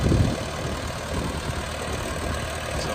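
A 2002 Vermeer V5750 backhoe engine runs steadily at idle, a constant low diesel rumble with broadband noise and no clear changes throughout.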